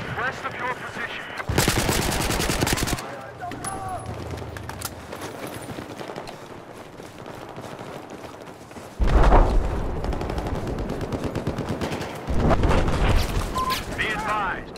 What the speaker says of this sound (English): Attention, hostile machine gun, west of your position.